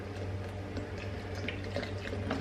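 Coconut plant milk is poured in a thin, steady trickle into a bowl of batter, a soft liquid splash lasting a couple of seconds over a low background hum.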